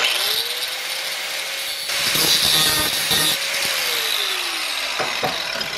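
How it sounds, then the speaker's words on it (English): A 4-inch angle grinder notching steel square stock whines steadily and loudly at close range, its pitch rising as it spins up, dipping under load through the cuts, then winding down, with no talk. "all I'm going to do is just take a 4-inch grinder and start notching"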